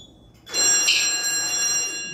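A Simplex 4004R fire alarm panel sounds an alarm: after a brief quiet moment, a bright, steady electronic ringing tone starts abruptly and holds continuously, fairly loud and close.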